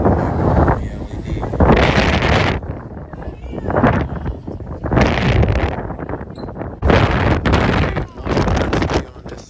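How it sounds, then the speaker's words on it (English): Strong wind buffets the microphone atop the Top of the Rock skyscraper observation deck in New York, coming in loud, roaring gusts that swell and drop every couple of seconds. "the wind's raging"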